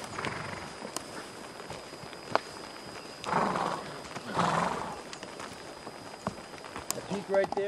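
Horses walk a mountain trail through ponderosa pine and Douglas fir in the Sawtooths, their hooves clip-clopping in an irregular rhythm, with a couple of louder snorting or whinnying bursts and faint voices nearby.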